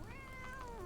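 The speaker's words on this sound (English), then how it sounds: "I hear a kitty cat." A single cat meow, short and gliding downward in pitch, heard over a faint background hum.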